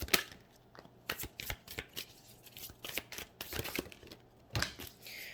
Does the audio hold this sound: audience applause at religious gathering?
no